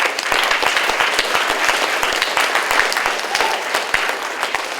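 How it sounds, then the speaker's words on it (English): An audience at a student organization meeting gives a round of applause, brisk continuous clapping from a moderately sized group, close and loud throughout. "So let's give Duke and Maddie a round of applause."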